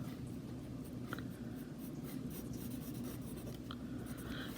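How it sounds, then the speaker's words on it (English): A pencil sketches a graph on paper, a steady, close scratching of graphite that runs without pause and has no talking over it. "I'm going to draw the parent function in pencil."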